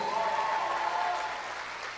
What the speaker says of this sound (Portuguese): dá um aplauso bem forte para Jesus aí